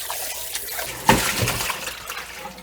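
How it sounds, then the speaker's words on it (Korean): Running tap water rinses trimmed pork ribs: a steady splashing stream with a sharper splash partway through, close and fairly loud, with no talking. "한 번만 이렇게 헹궈주세요"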